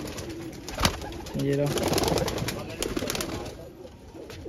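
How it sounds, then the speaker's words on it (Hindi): Pigeons in a main loft where a chick is emerging give soft, repeated cooing close by, while someone talks over them and a sharp knock sounds early. "ये रही हमारे मेन लॉफ्ट का कबूतर, ये देखिए बच्चा निकल रहा है हमारे।"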